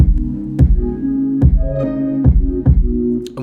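A punchy kick drum hits roughly every 0.8 seconds in FL Studio while a sustained synth melody dips in volume under each beat from sidechain ducking, giving a pumping rhythm.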